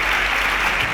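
Studio audience on a Nigerian quiz show clapping in a brief, dense burst of applause, steady and fairly loud for about a second.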